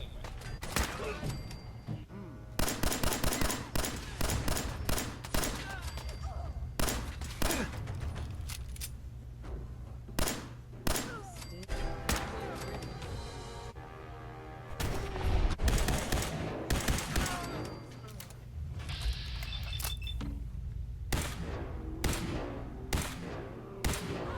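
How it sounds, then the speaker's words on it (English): Fallout 4 firefight between a Courser and a large group of gunners: bursts of rapid gunfire and single shots crackle repeatedly throughout, loud and close, with voices talking intermittently in between. "found themselves amidst a heated firefight between a Courser and a large group of gunners"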